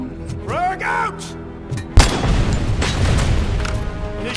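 A grenade explodes in the RoboCop: Rogue City video game, a sudden sharp boom midway that rolls into sustained rumbling noise, preceded by game voices and tonal effects.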